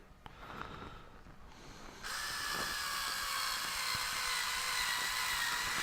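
Cordless electric screwdriver with a low battery, working on an RC truck axle; after a quiet start with small clicks, a steady whirring motor drone kicks in and runs continuously at close range.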